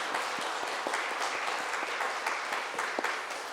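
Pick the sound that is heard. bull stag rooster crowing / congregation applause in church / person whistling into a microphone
congregation applause in church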